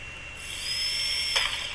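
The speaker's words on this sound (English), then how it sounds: "Can you hear that drill?" A drill boring into a rock sample in the video game Kodu, a thin high-pitched whine rising and holding steady for about a second, with a short grinding burst near the end, moderately loud over faint background hum.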